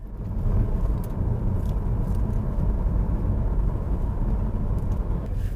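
A Nissan Juke with the 1.6 engine driving on the road, heard from inside as a steady, loud low rumble of engine and road noise that continues without a break.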